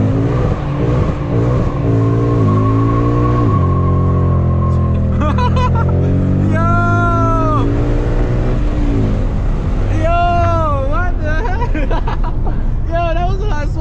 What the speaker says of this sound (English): we gonna do a burnout